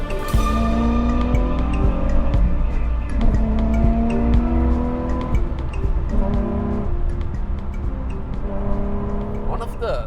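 A Nissan 350Z sports car with a manual gearbox drives hard, its engine loud and close, revving up and down through gear changes with steady road and tire noise throughout.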